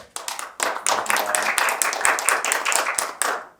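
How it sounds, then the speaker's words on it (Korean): An audience at a Seoul financial innovation forum claps to welcome a guest, a brisk, close round of hand claps with irregular sharp strikes. "한 분씩 소개해드릴 때마다 큰 박수로 환영해 주시기 바랍니다"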